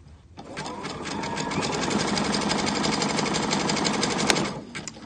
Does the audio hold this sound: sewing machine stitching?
yes